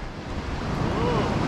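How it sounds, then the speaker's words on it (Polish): Waves crash on the Baltic Sea shore during a metal-detecting outing, a loud, close, rushing surge under heavy wind buffeting on the microphone. "Ależ fale walą, nie?"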